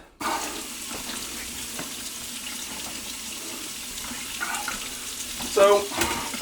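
Hot water runs from a kitchen tap into the sink drain in a steady, close hiss and splash, with a few clinks and small bumps near the end.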